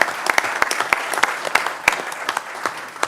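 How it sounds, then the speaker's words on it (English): An audience at a community college system board meeting applauds, a burst of sharp, scattered claps from a modest crowd at close range, fairly loud and fading slightly toward the end. "How about some applause?"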